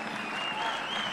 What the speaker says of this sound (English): Let's give a round of applause to Bishop Priska